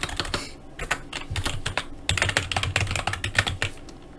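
Close, brisk typing on a computer keyboard, with irregular bursts of clicking keystrokes and brief pauses, no voices.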